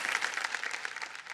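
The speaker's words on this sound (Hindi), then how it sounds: "एक बार जोरदार तालियां बज जाएं इनके लिए।" A TV quiz-show studio audience on KBC claps for a contestant's family, giving a brief burst of dense, steady applause.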